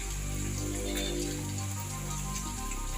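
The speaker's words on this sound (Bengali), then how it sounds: "এই বৃষ্টির দিনে জানলায় বসে থাকতে খুব ভালো লাগে" Monsoon rain falls steadily on a rainy day, a dense continuous wash of patter heard close and fairly loud, with no talking.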